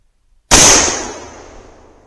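A single sharp gunshot from a .357 Magnum firearm loaded with 125-grain Remington ammunition, loud and close, cracking suddenly after silence and ringing off over about a second and a half.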